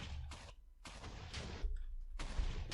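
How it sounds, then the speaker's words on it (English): Repeated TNT explosions in the video game Minecraft, several loud broadband bursts in quick succession with short gaps between them, close and forceful. "22 explosions."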